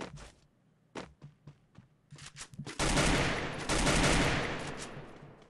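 Gunfire in the video game Free Fire: scattered single shots at first, then a sustained loud burst of rapid automatic fire that fills the last few seconds.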